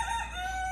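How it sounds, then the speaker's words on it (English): Chickens and a rooster outdoors in Jamaica, a steady crowing call held through the moment with a sustained tone over faint background noise, no talking. "you can hear the chickens and the rooster in the background."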